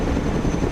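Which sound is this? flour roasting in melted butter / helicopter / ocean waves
helicopter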